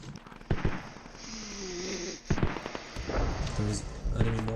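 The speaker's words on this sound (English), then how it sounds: "There is enemy mortars." Enemy mortar shells bursting in a video game, a few heavy thumping blasts with rumbling tails spread across the moment, mixed with game noise and someone talking over it.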